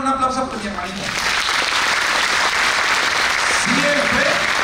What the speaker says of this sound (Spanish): un aplauso por mi hermanita